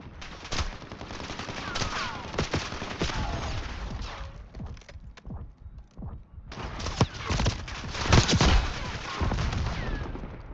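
Gunfire in the shooter Call of Duty Black Ops 6, bursts of shots and impacts from several weapons with a short lull midway, then heavier firing returns.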